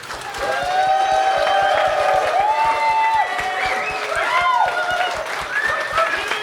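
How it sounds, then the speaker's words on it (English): Crowd at a live game-show convention event applauds, dense rapid clapping mixed with cheers and whoops rising and falling, loud and sustained throughout. "Can we just have a huge round of applause for Sarah and Ian?"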